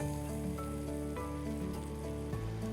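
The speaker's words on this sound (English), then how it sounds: "2 tablespoons of vegan butter. Wow, this stuff melts." Two tablespoons of vegan butter melt and sizzle in a hot pan, a dense, steady crackle with scattered small pops, close and continuous throughout without any talking.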